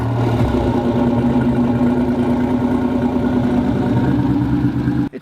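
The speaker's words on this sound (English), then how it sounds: "This has had a 3800 engine put in with a supercharger, custom-made header and exhaust, and this is what it sounds like." Car fitted with a supercharged 3800 engine, custom-made header and exhaust, running with a loud, steady, deep burble close by, then cutting off abruptly at the end.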